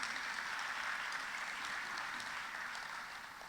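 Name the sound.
audience applause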